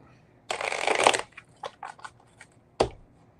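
A deck of cards is shuffled close by: one quick riffle, then a few softer taps and squaring noises, and a final sharp tap.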